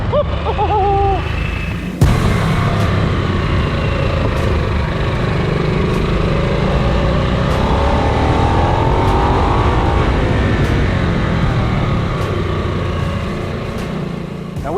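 A 2022 Harley-Davidson Nightster 975 motorcycle riding on a road in Spain, its engine droning steadily and loudly up close the whole way, with a sharp jump in level after a brief quieter start and no talking.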